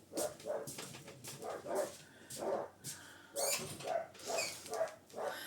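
Several dogs bark and yip behind closed doors, muffled and fairly faint, in a steady run of short barks.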